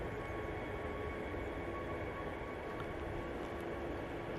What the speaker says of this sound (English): Jet2 A321 now on the roll. It's one of their Neos.